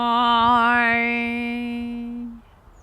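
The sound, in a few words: overtone (harmonic) singing demonstration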